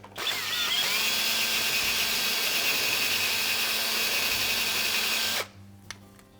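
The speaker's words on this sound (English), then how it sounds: "So we'll need to drill that out and tap it for a 10/32 screw." A high-pitched power drill whines steadily for about five seconds boring out a hole in a refrigerator door part for a 10/32 screw, then stops abruptly, followed by a few faint clicks.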